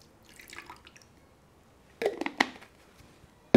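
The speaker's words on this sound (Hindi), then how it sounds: "ये 90 एम मैंने बॉटल से ही देख कर और इसमें मैं ये पानी डाल रही हूँ" Water poured from a bottle into a baby bottle sterilizer, heard as a brief cluster of faint splashes and drips near the microphone in an otherwise quiet room.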